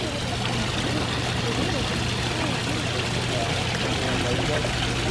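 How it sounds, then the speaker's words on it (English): Steady rushing water fills the scene evenly, a constant broadband roar with a low hum beneath it, with no clear voices. "Oh, look at this pretty waterfall."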